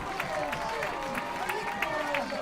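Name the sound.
crowd erupting in cheers after a soccer goal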